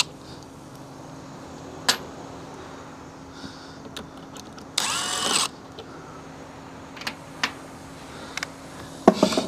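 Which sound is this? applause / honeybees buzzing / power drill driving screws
power drill driving screws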